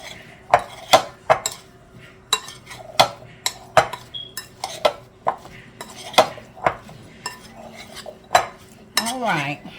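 Potatoes being tossed with a coating in a bowl give close, repeated sharp clinks and scrapes of a utensil against the dish, roughly every half second in bursts, alone without speech.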